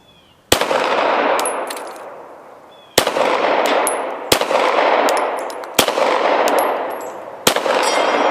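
Pistol shots from a Glock 34, Smith & Wesson M&P Pro or Springfield XDm 5.25 at an outdoor range: five sharp cracks spaced a second or two apart, each followed by a high metallic ring off a steel plate and a lingering rumble.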